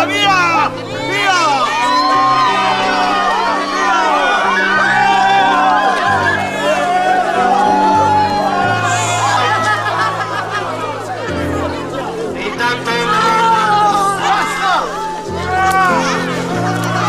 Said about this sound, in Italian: La folla iniziava a giurare contro i soldati per avvicinarsi a Gesù e i soldati cercavano di contenere la folla che voleva avvicinarsi a Gesù